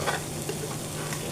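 Grated coconut fries to a golden brown to render coconut oil, making a soft, steady sizzle with a few faint bubbling pops, moderately close and low in level.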